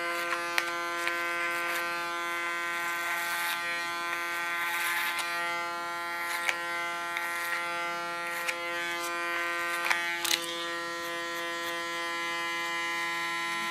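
Electric hair clippers cutting a short, asymmetrical blonde women's hairstyle give a steady close-up buzz with a sustained hum, punctuated by brief crisp snips and bursts as the blades move through the hair.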